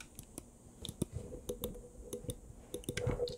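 DPI button on a Glorious Model O gaming mouse pressed repeatedly: a scattering of small, close, light clicks at uneven intervals over a soft background hiss.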